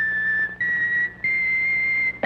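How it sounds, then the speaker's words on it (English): A plastic Trix rabbit cereal-box whistle from a 1960s TV commercial sounds three clear, sustained whistle notes in succession, each pitch slightly higher than the last, with brief gaps between them. "Each whistle plays three notes."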